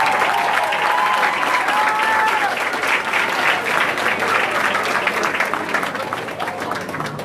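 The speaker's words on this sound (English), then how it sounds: "I want you to give them a Vincentian round of applause" An audience at the close of a public speaking competition applauds in a loud, dense, sustained wash of clapping that holds steady for several seconds, with a few faint voices underneath.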